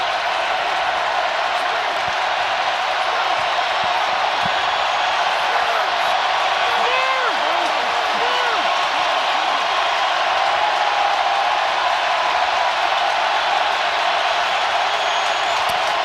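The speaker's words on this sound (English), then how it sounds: "You can hear the effect this crowd has." A packed stadium crowd at a Falcons vs Saints NFL game produces a dense, sustained roar with no letup, loud and enveloping, with whistling and shouts rising faintly inside the wash of noise.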